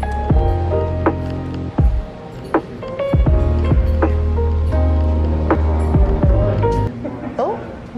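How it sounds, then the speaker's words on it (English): Heavy rain falls outdoors in Seattle during a street mural painting session, a steady dense patter throughout with voices and other activity nearby. "this rain is not playing"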